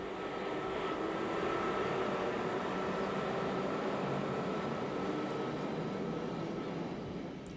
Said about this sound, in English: Haulage for the Brussels to Amsterdam service is a dual voltage Class 11 electric.